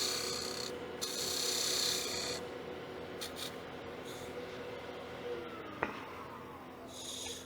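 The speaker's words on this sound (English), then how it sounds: "I'm going to just put a little chamfer here" A woodturning tool cutting a chamfer on a wooden box spinning on a lathe: faint scraping and rasping in short bursts over a steady motor whine, with a single small knock near the end.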